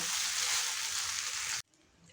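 Cumin rice fries in a pan, a bright steady sizzle with stirring under it, quite faint, cutting off abruptly after about a second and a half.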